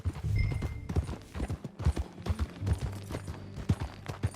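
Horse hooves in the video game Red Dead Redemption 2: a steady, rhythmic clip-clop of riding, close and fairly loud, with a low rumble of movement and gear under it and no talking.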